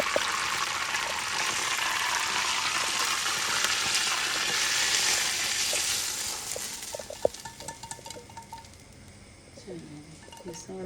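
Mustard seeds and curry leaves sizzle and crackle in hot oil for a dhokla tempering. A loud, dense hiss fades to scattered pops and a clink of utensils, with a voice talking faintly.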